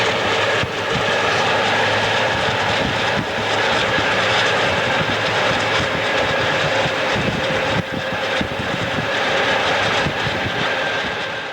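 A freight train led by GE locomotives rolls through the Sand Hills Subdivision with a loud, steady, broad rumble that holds for the whole stretch, near and unbroken, with no voices.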